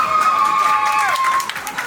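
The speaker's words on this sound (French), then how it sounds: "les gens qui nous applaudissent" Roadside crowd cheering and applauding the passing Tour de France publicity caravan, a dense steady wash of clapping and shouts close by, with voices calling out over it and a high whistle-like tone near the start.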